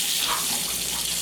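An IKEA faucet runs cold water in a steady, close, continuous rush that fills the short stretch alone, with no talk over it.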